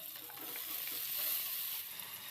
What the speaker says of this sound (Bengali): এবার এর মধ্যে দিয়ে দিচ্ছি একটা টমেটো বাটা।